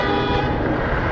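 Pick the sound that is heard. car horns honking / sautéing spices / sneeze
car horns honking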